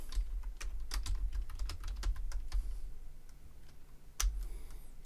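Password being typed on a computer keyboard while setting up a user during a Ubuntu install in VirtualBox: a burst of quick, light key clicks, fairly close, then a pause and a final key press, over a low room hum.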